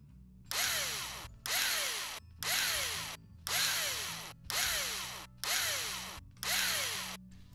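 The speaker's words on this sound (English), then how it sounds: "The first thing we have to do is get the screws out of it." A power screwdriver backs screws out of an Xbox 360 controller in seven short, whirring bursts, each about half a second to a second long, separated by brief pauses, close and fairly quiet.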